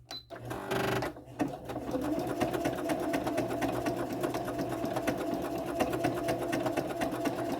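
Sewing machine with a cording foot stitching at medium speed: a brief click and whir at the start, then a steady, close, rapid rhythmic stitching that runs evenly to the end.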